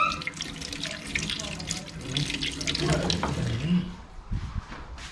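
Tap water runs steadily over a conch being washed in a kitchen sink before it goes into a curry pot. The stream splashes and trickles at close range with small clinks, while faint voices talk underneath.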